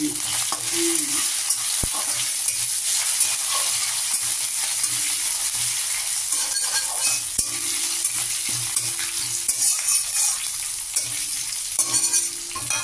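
Chana dal frying in hot oil with chopped chillies: a bright, continuous sizzle with crackling pops, close and steady, with occasional stirring clinks.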